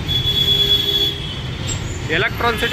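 Bangalore metro train wheels near Electronic City give a long, high squeal over a steady rumble of rail noise, with a voice heard briefly near the end.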